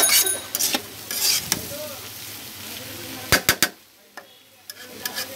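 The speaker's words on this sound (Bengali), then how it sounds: "আমি ভালো করে একটু নাড়া দিয়ে দিতেছি" Mixed vegetable bhaji stirred in a pan, a soft scraping and low sizzle with a few sharp utensil clicks against the pan near the end, moderately quiet and close.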